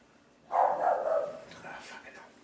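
A dog barks in a short run of sharp, mid-pitched yaps indoors, fairly close and alone without talk.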